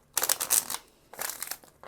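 Tarot cards are shuffled up close in two quick, crisp bursts of riffling and flicking with a short pause between them.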